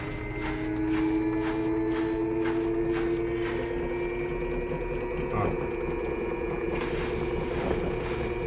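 An Electrolux washer-dryer in its spin cycle makes a steady mechanical whir and hum with repetitive clicking and rattling, close and continuous, with no talk.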